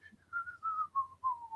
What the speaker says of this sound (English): Something's wrong with my whistle. Why is it still going on?